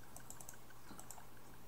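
Light, quick typing on a computer keyboard, with irregular clusters of crisp clicks over a faint steady hum, close by and quiet, no voices.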